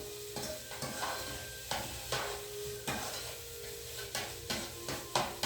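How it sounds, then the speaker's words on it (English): Onions sizzle over high heat in a pan for a shepherd's pie, with a soft frying hiss broken by repeated scraping stirs of a utensil against the pan at an irregular rhythm, close and fairly quiet, no talk. "keep it on a high heat, okay? Because we really want the onions to get slightly brown."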